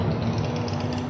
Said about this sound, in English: We're going to unscrew that screw.